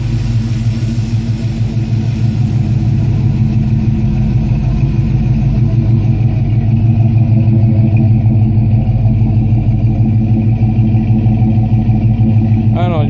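A classic V8 engine idles steadily up close, with a loping, rhythmic exhaust burble that stays even throughout.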